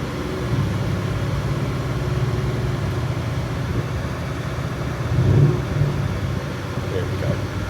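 A Mercedes S63 AMG runs on a dyno as a steady low engine rumble with a brief swell partway through, loud fans roaring around it.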